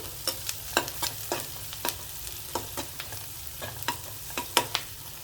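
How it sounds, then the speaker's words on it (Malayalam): Chopped vegetables being sautéed and stirred in a pan, with repeated scraping stir strokes roughly every half second over a low steady sizzle, close and moderately quiet, no voices. "ഇതും കൂടി ഒന്ന് വഴറ്റിയെടുക്കാം"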